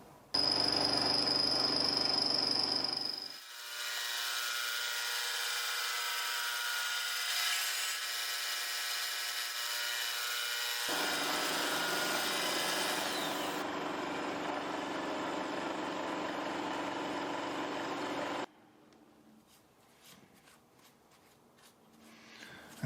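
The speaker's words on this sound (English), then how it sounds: "so I'm going to start off with a 14mm end mill and go in at 4mm deep and see how that works out." A milling machine at 1200 RPM cuts with a 14mm end mill about 4mm deep: a steady, close whirring grind with a constant pitched tone that runs for most of the time, then drops to a quieter hum near the end.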